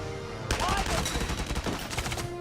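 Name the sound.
gunfire in video game Valkyria Chronicles 4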